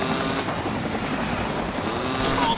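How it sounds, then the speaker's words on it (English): A police helicopter in the motorbike stunt game Urban Trial Freestyle, its steady rotor drone humming continuously at moderate loudness under other game noise, with a faint high whine near the end and no talk. "There's also a chopper, if you haven't noticed."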